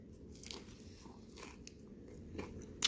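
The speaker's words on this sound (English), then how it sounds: "I'm used to just eating the crunchy tacos" A crunchy Flamin' Hot Cool Ranch Doritos Locos taco is bitten and chewed up close, giving a few soft crackling crunches, faint and intimate with no talking.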